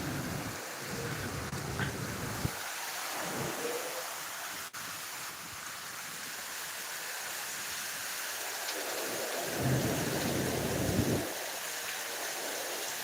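Steady heavy monsoon rain pours down in Deulgaon Raja with a gusting wind roar strong enough to knock figs from the trees, continuous and close, with no voices.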